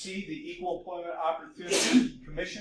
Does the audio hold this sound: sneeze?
yes